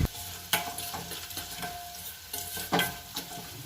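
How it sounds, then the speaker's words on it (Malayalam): Cashews frying with cumin and asafoetida in a pan for pongal, with a steady close sizzle and several scraping spoon strokes as the mix is stirred. "അണ്ടിപ്പരിപ്പ് ചേർത്തിട്ട് അതിന് നന്നായിട്ടൊന്ന് മിക്സ് ചെയ്ത്"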